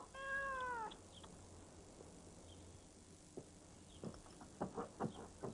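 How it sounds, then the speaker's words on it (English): A cat gives one clear meow at the start, followed by quiet rustling and soft patter in a calm setting. "Pippin, leave the poor cat alone"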